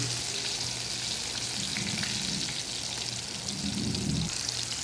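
Fish fries until crisp in a pan of oil, a dense, constant close sizzle with faint stirring or scraping underneath, no talking.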